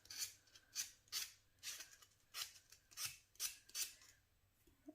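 A nail file rasps across a press-on nail in quick, evenly spaced strokes, about nine close, clear scratches in a quiet room.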